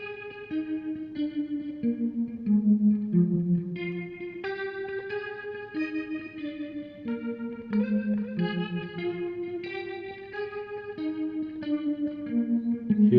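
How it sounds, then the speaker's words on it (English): A recorded music part plays through a rotary effect, its layered tones swirling and wavering as a melodic line moves through steady, sustained notes for several seconds. "Here we have some rotary effect added to it."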